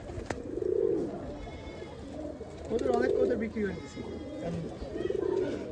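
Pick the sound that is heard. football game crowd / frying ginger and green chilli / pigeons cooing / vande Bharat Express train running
pigeons cooing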